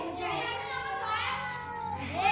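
A cat makes strange, drawn-out meowing and wailing sounds, close and fairly loud, with wavering pitch that rises sharply near the end and continues without pause.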